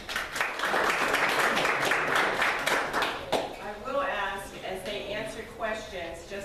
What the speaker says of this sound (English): But I do appreciate you clapping for their statements at this time